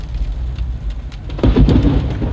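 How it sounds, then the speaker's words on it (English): Heavy rain patters steadily during a car drive, and a deep thunder rumble swells up partway through, loud and close. "we got some lightning and thunder happening"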